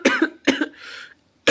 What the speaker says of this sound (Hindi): सॉरी कोविड नहीं हुआ है, बस ऐसी हल्की सी खांसी आ गई।